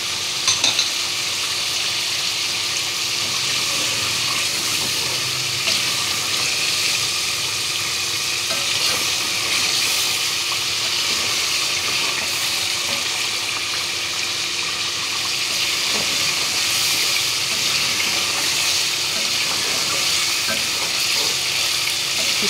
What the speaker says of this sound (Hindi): दही डाल के भून ली।